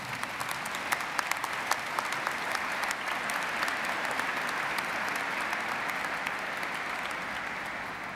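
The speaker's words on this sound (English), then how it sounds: "give all your supporters, friends and family a big round of applause for their encouragement and support" Steady, dense applause from a large graduation ceremony audience at a university, sustained for the whole stretch without pause or speech.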